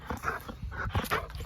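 An energetic dog whimpers and yips outdoors on a leaf-covered hillside, a rapid irregular string of short high cries and barks, fairly faint and with no talking.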